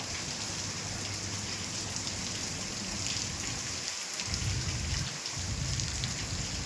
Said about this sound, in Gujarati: मुसळधार वरसाद, गर्मीनी राहत थई, ठंडकनी महल देखो